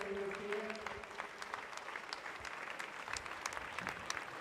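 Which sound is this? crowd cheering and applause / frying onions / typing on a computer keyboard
crowd cheering and applause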